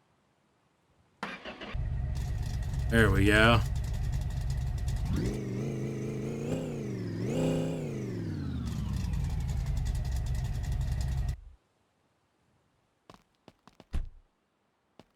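A truck engine cranks and catches, then idles and revs up twice with rising and falling pitch before shutting off abruptly, followed by a few faint clicks and knocks; a brief spoken remark is heard near the start.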